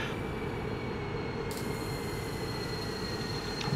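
A train brakes in Train Simulator 2020 on a regional run from Bremen to Osnabrück, giving a steady rolling rumble with a faint high squeal, no one talking.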